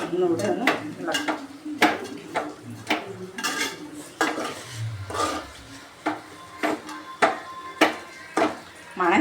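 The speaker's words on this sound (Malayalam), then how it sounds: "ഒന്നുകൂടെ ഒന്ന് ഇളക്കാം" Idiyappam pulao with fried onions, raisins and a little sugar being stirred in a pan: irregular metallic scrapes and knocks of a spoon against the pan, close up, over a faint sizzle.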